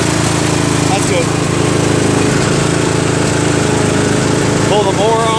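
A John Deere D140 riding lawnmower engine runs loud and close with a steady, buzzing drone, while a person talks over it.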